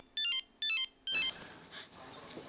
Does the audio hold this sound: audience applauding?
no